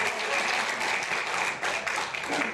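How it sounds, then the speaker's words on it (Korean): Loud, dense audience applause fills a hall at a Democratic Party leadership convention speech in Jeju, a steady wash of many hands clapping throughout with a brief dip partway. "이럴 때는 박수를 좀 크게 쳐주셔야 당의 미래가 있겠습니다."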